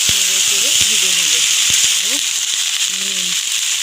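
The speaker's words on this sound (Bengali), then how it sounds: "এবারে আমি কপিগুলো আগে ঢেলে দেবো," Cauliflower pieces frying in hot oil spiced with dried red chillies, bay leaves and cumin, giving a steady loud hiss and sizzle throughout, with a few brief voice sounds over it.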